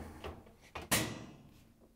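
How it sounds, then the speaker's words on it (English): The top of a GE washing machine is set down and locks in place: a couple of soft knocks followed by one sharper latching clack, close and fairly quiet. "carefully set the top down so it locks in place"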